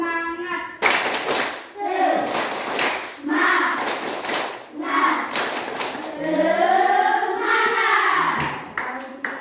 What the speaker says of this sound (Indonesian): Setelah tepuk PPK, kita tepuk semangat.